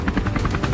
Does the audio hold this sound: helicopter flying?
yes